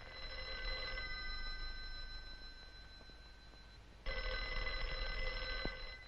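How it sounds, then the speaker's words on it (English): An old landline telephone rings in a house, its bell sounding in a long steady burst, pausing briefly, then ringing again at the same moderate level with no voices. "Sure, that's Grandma's telephone ringing."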